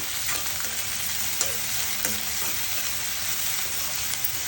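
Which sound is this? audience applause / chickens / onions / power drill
onions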